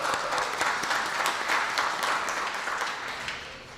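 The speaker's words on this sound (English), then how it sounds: "So please give them a round of applause." Audience at a community meeting on the state takeover of the Houston school district applauds steadily, a dense, sustained burst of clapping from many people that gradually tapers off.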